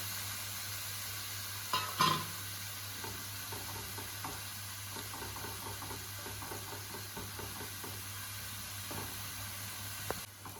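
Spinach stir-frying in a pan as two eggs go in, a steady soft sizzle with faint stirring scrapes and a couple of brief clatters near the start, no talking.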